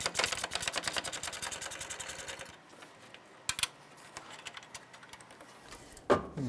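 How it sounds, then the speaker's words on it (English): Rapid mechanical clicking from a 12mm gear wrench ratcheting while loosening exhaust manifold bolts on a 2012-2017 Toyota, a dense run of ticks followed by scattered softer clicks and a final sharp burst, close and without talk. "Use our 12mm gear wrench to go ahead and loosen and remove these."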